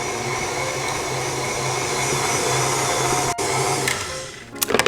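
An electric mixer whips garlic mashed potatoes on medium speed, a steady loud motor whir running unbroken through the clip, ending in a few clattering knocks.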